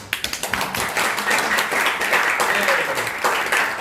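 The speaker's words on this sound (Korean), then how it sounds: "우리 박수 한번 치셔야 돼요" Audience applause at a military church gathering and invited concert, starting with a few distinct claps and swelling into steady, dense clapping from a crowd that continues for several seconds.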